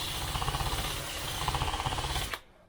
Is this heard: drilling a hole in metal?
yes